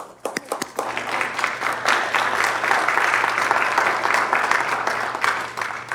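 Applause fills a city commission meeting, starting with a few scattered claps and building into steady, sustained clapping from the room for several seconds.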